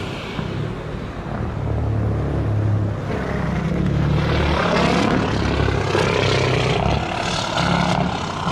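An airplane landing at Montego Bay airport in Jamaica, heard as a loud, steady engine roar that fills the whole stretch with little change in level.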